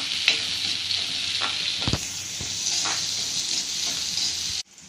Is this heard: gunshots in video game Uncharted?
no